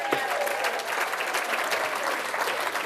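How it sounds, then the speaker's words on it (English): A crowd at a political campaign event claps for the party chairman: dense, steady, moderately loud applause from an indoor audience that lasts the whole moment. "How about a round of applause for our party chairman?"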